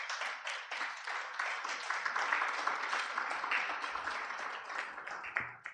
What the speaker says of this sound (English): we give them a big clap